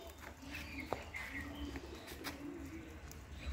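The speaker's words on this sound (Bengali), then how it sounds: "আমাদের বাসার কবুতর এতক্ষণ আপনাদের দেখালাম।" Pet pigeons at a house coo softly in low, drawn-out calls, quiet and fairly close, with a faint tap and some background rustle.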